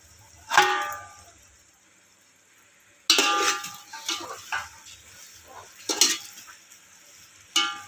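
Prawn biryani mixture is stirred in a pot, with several distinct scraping, clattering strokes of a spoon against the metal, bunched into short bursts with brief quiet gaps between them.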